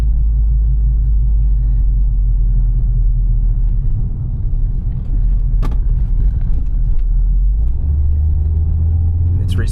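A 2012 Ford Focus with a dual-clutch transmission drives along, a constant low engine and road rumble from inside the cabin that shifts in pitch near the end as it changes gear, with a voice speaking over it.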